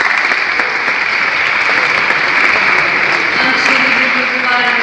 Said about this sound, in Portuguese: para que apeça uma salva de palmas